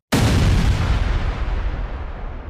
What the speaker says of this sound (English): Another shell detonated.